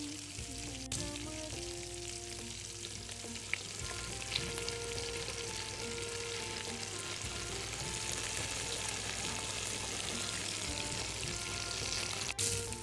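Crabs frying in oil in a pan, a loud, steady, close crackling sizzle that holds evenly throughout, with a couple of brief clicks and a low hum underneath.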